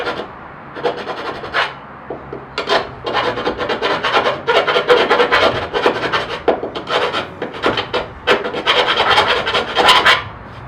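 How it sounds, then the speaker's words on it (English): A hand file rasps at freshly drilled holes in a Toyota LandCruiser 79 during a snorkel install. The strokes are loud, close and rhythmic, back and forth for about ten seconds with no voices. "I'm just going to clean these last 3 holes up with a file"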